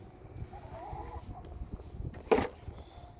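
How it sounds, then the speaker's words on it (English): Chickens in a straw-bedded coop clucking softly nearby, with one louder squawk near the end of the clip. "Hey, chickens!"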